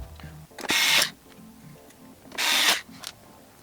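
A screw is driven in to fasten the mounting plate of an all-in-one computer, two loud bursts of screwdriver whirring about a second long, close up, separated by quieter handling noises.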